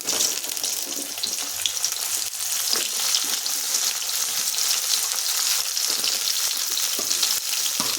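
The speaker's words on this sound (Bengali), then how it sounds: "ফোড়নটা এখন একটু ভেজে নেবো" Panch phoron spice tempering sizzles in hot oil, a steady close-up frying hiss with faint stirring scrapes and no voice throughout.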